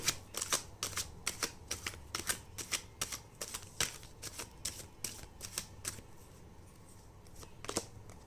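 Tarot cards shuffled by hand in a steady series of quick riffling bursts, close and crisp, with the rhythm slowing and thinning toward the end.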